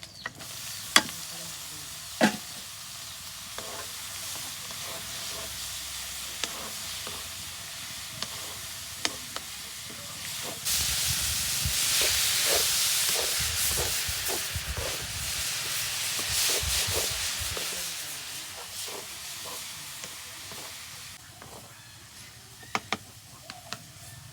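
Pumpkin greens stir-fried in a pan with onions, a continuous sizzle under repeated scraping and clacking of a spatula that grows louder and denser midway, then settles back, no talk.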